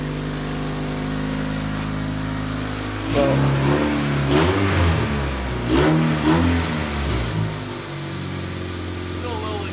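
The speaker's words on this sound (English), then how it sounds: "It's idling like a motherfucker, but we'll get to that." Honda 800 engine idling roughly, then revving up in two bursts with rising and falling pitch before settling back to idle; a voice speaks briefly.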